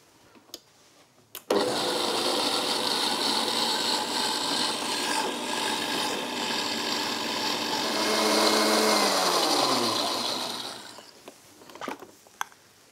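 A food processor crushes nuts with curry and Espelette pepper, a loud steady whirring grind that runs continuously for about nine seconds, then winds down and stops, followed by a couple of faint knocks.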